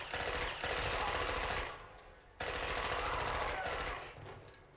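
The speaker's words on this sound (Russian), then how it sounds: "за кадром слышны звуки выстрелов из телевизора" Rapid bursts of gunfire from a film rattle in two long volleys with a brief lull between, playing through a television speaker.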